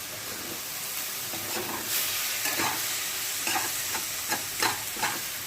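Water is splashed into a pan of frying banana flower curry, setting off a steady sizzle and hiss with soft stirring scrapes and small bursts, close and moderately loud, with no voices.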